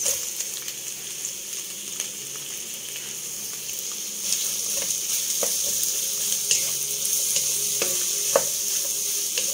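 Sliced onions sizzle steadily in a hot pan alongside hotdog pieces, with a constant close frying hiss broken by occasional light scrapes and clicks of stirring; no voices.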